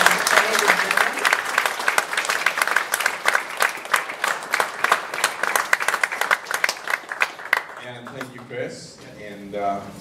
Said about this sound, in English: big round of applause for your show.